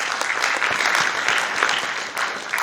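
At a day-one assembly of the Inter-Religious Council of Uganda, the audience gives the council presidents a big round of hand clapping, steady and full throughout with a brief dip partway through.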